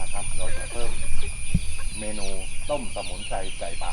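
Wild junglefowl chickens cluck repeatedly in short bursts on a small self-sufficient farm in Satun, Thailand, close and clear, with a person talking quietly in the background.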